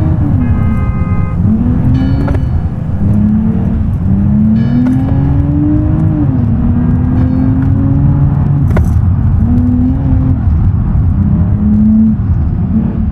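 A Mercedes-Benz SUV engine drones loudly and steadily while driving off-road in GTA 5, its pitch rising and falling with gear changes and throttle, with faint clicks and a brief rattle.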